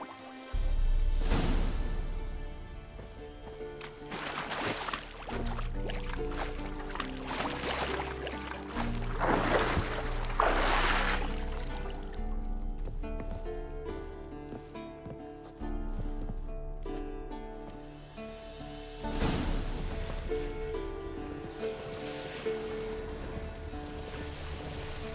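A boat crosses a lake in The Witcher 3, with water sloshing and lapping against the hull and wind gusting in swelling waves over a low steady rumble, with no voices.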